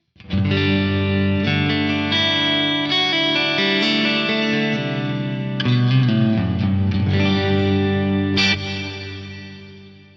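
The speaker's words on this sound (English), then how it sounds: "Beautiful sounding hall reverb there." An electric guitar plays sustained, effected chords through an Axe-Fx III music hall reverb, the notes ringing with a long wash of spacious tail that slowly fades out at the end.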